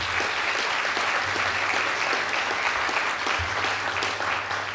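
Dense, sustained applause from a large audience at the New Populism political conference, loud and even throughout, with no voices over it.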